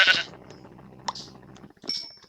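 Sheep in a survival video game bleating in short, nasal calls, one loud bleat at the start and fainter ones after, with small electronic chimes in between.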